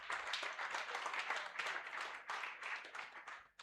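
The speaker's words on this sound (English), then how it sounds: "Please clap for yourselves." Audience at a hospital competition award ceremony applauding, a dense, even wash of many hands clapping, moderately distant, sustained for a few seconds before tapering off.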